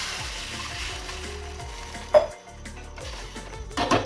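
Water is poured into hot oil with chili powder for pithla, giving a steady crackling sizzle with a sudden sharp hiss midway. The sizzle then settles and picks up again toward the end.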